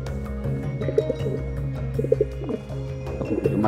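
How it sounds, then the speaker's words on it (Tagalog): Soft, low pigeon-like coos repeat at an even pace over a steady low hum, with faint chirps mixed in; no talking. "Ito nga po pala ibon ni Mark Darrell Diaz"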